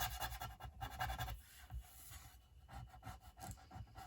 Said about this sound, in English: I'm just going to give it a little rub.